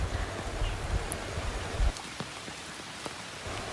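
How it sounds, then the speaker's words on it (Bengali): Steady rain patters in a soft, even hiss, with a few louder drips and a low rumble that cuts out partway through. "আজ সকাল থেকে পরিমাণে বৃষ্টি হচ্ছে বন্ধুরা।"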